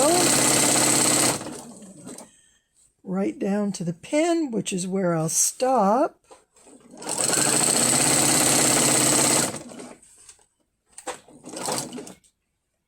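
Sewing machine stitching in two loud bursts, its steady mechanical hum running for a few seconds each time, with a person talking in the pause between them.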